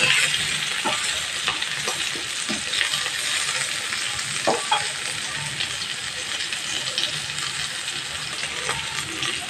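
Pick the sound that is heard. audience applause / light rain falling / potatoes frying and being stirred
potatoes frying and being stirred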